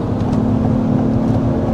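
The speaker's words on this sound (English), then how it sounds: "that engine you're hearing, the engine noise is pumped in" Steady, droning engine hum inside a moving 2023 Acura MDX Type-S, engine noise piped into the cabin, a constant low rumble with a faint tonal whine, no talking.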